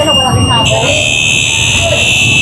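Electronic alarm buzzer at an outdoor street market in Divisoria, sounding as a loud steady high tone throughout, with a sharp jump in intensity partway in; someone talks over it amid busy crowd noise.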